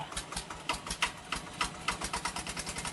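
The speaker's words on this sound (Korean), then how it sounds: "할아버지가 보란 듯이 대문 안쪽에 세워둔 경운기에 시동을 걸었어요." A power tiller engine parked inside a gate chugs in a fast, regular, rattling beat. It is faint and somewhat distant, with sharp repeated clatters.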